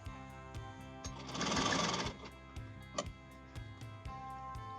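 A sewing machine stitches along the side slit of a kurti, its rapid mechanical ticking running steadily with a short burst of faster, noisier stitching in the middle; no voices.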